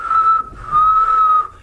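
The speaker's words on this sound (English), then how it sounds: "he's got the technique called the warble whistle" A singer demonstrates a warble whistle, producing two sustained, clear high whistled tones separated by a brief break, close and loud with no talking.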